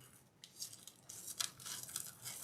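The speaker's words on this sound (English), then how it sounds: "So just a plastic bag." A plastic bag handled up close for a craft project, giving quiet, intermittent crinkling and rustling bursts with no talk.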